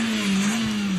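Car on a test lap in Top Gear Australia, accelerating hard out of turn one into second gear, a loud sustained engine drone close by with a dip in pitch at the gear change near the end.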